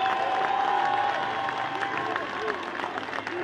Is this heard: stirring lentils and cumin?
no